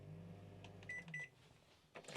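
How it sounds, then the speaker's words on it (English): A compact microwave oven in a WildAx Constellation 3 XL campervan starts up, giving a low hum that runs under two pairs of short electronic beeps, with some light rustling at the end. "you can then go into your minute and second settings and start the device up"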